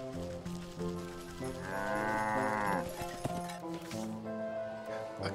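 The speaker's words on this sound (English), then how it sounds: "A cow!" A cow moos in a long, drawn-out call over steady background music in the video game Wytchwood, with no one talking.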